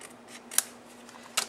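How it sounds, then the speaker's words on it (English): Paper for an Easter card being trimmed with scissors: two short, crisp snips about a second apart, quiet and close, with no one talking. "then I'm going to turn it over and trim it off."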